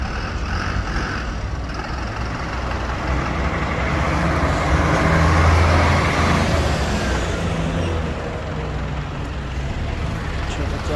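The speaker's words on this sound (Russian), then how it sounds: "Что-то карщик едет" A forklift driving past at a loading area, its broad engine rumble swelling as it draws near, peaking midway and fading again, with possible faint voices in the background.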